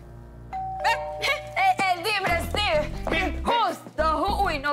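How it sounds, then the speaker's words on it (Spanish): A doorbell chimes once with a sustained tone at a home, then people talk over it close by. "pero sonó el timbre"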